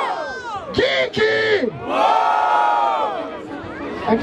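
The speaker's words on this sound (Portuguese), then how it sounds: "É que tem bastante gente gritando no fundo." Crowd shouting and cheering at a Brazilian freestyle rap battle in Barueri, São Paulo, loud sustained roar of many voices with chanted bursts rising and falling over four seconds.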